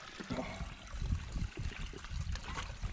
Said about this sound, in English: We think we can hear some trickling down there.